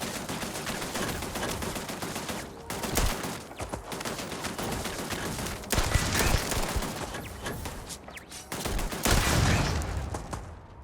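Sustained automatic turret gunfire from the video game Starfield, dense and continuous bursts with a few louder surges, heard alone without speech.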